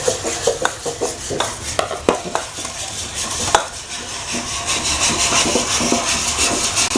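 A brown rice soap mixture is stirred in a container, giving repeated close scraping and knocking strokes in an uneven rhythm, with no voices.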